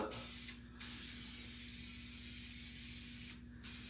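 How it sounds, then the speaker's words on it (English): A spray paint rattle can coats a Chevy Cobalt interior part, a steady close hiss broken by two short pauses, over a low background hum. "I'm freaking Picasso with a rattle can"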